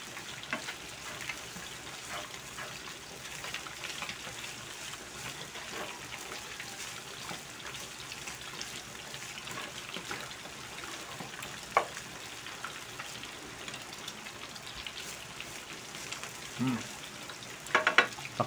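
Fried rice for a home-cooked pork silog meal sizzles steadily in a pan while being stirred, with a constant frying hiss and occasional scraping and clinking of the utensil.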